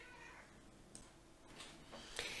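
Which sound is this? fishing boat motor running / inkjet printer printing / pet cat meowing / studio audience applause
pet cat meowing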